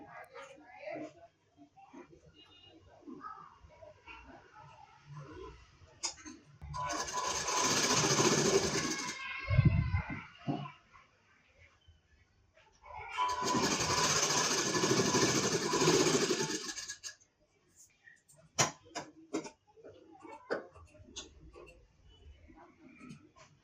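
A sewing machine stitches a strip onto a 28-inch four-tuck blouse in two loud, steady bursts of several seconds each, separated by a pause with quieter handling sounds and someone talking.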